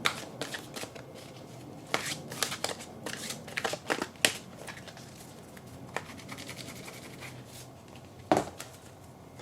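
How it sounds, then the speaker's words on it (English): A deck of oracle cards is shuffled close up, with a steady run of crisp riffling and slapping bursts lasting the whole stretch and a sharper knock near the end, no voice over it. "So I'm going to go ahead and shuffle"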